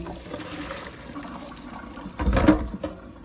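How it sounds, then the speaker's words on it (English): Cold tap water splashes over parboiled pork bones in a kitchen sink, a short, close gush of running water rising out of a quiet room background. "So now we're going to put it in the sink and rinse it out with cold water."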